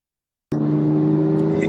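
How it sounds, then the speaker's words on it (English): A car engine hums steadily from inside the cabin while driving, a low droning rumble that starts abruptly and holds constant and fairly loud, with no voices over it. "I'm in my car. It's kind of loud."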